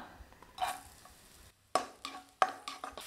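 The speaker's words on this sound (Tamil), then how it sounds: "இதை வதக்கி விட்டுக்கலாம்" Finely chopped garlic sizzles in hot oil in a pan while being made into cauliflower manchurian, a soft steady frying hiss broken by several sharp scraping stirs near the end.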